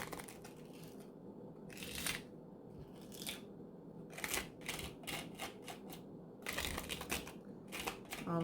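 Grout being scraped and pushed with a tool across a glass mosaic, filling the grooves between the tiles; irregular scratchy strokes come in bursts over a steady low background.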